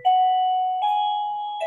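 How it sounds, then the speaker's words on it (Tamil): A modern touch-activated calling bell sounds a bright electronic chime of two sustained tones in succession, loud and clear, with a third note beginning at the end and no voices over it. "இது நீங்க டச் பண்ணாலே ப்ளூ கலர்ல வர மாதிரி மாடர்ன் டைப் காலிங் பெல்ங்க சார்"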